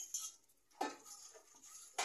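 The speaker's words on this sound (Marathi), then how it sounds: "भांडी घासायला लावले" Household utensils being scrubbed and washed by hand, sparse clinks and scraping knocks separated by quiet gaps, close and fairly faint.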